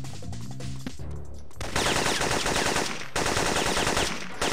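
Rapid automatic gunfire in the video game Syphon Filter, a dense sustained burst of shots that briefly pauses, then resumes, loud and close with no talking over it.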